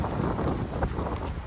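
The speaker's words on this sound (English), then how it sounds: "It's very, very windy" A very windy outdoor day batters the microphone with steady low rumble and buffeting, moderately loud and continuous, with no clear voice.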